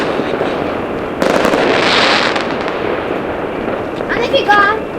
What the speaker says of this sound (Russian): Это сигнальная ракета.